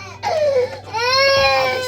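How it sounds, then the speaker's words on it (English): An infant cries close by in a kitchen, two wailing bursts, the first short and falling, the second longer and sustained, loud with no speech over it. "Sorry for the crying."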